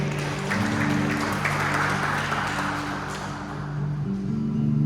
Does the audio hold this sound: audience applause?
yes